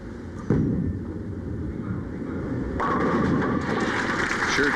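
At a 1990 Kessler Classic professional bowling match, a ball crashes into the pins with a sharp, loud burst, followed by rumbling clatter and rising crowd noise from the lanes.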